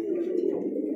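A chocolate-coloured male pigeon gives a single brief, low, throaty coo lasting about a second, close and fairly clear.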